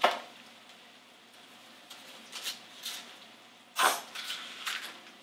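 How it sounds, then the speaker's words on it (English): An onion is peeled and cut on a kitchen board in a quiet room, with a few crisp crackles of papery skin and soft knife scrapes in separate short bursts. "So I'm gonna clean up an onion here."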